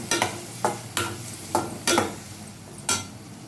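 Carrots and mixed vegetables stir-fried for festive fried rice, with five or six scraping, sizzling bursts of stirring in a hot pan at a steady pace, fairly close, no talk.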